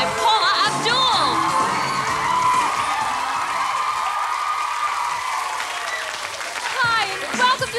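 A studio crowd at a televised Barbie Dance Club show cheers and applauds, with whoops and shouts rising over steady clapping; the noise is loud and continuous throughout, swelling again near the end, with voices mixed into the din.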